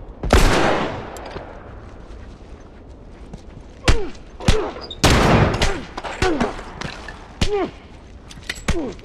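Rifle gunfire in a multiplayer match of the video game The Last of Us: sharp shots crack out one after another, mostly single reports spaced unevenly, with a louder burst near the start.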